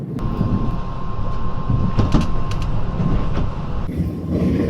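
Steady low rumble of a train rolling smoothly along the rails near Otaru, Hokkaido, Japan, with a faint high tone and a few light clicks, continuous and fairly loud.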